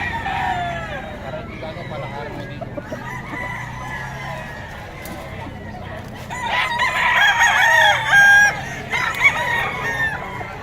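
A rooster crows amid clucking chickens and other farmyard noise at a market in Bocaue, with people talking throughout and louder crowing toward the end.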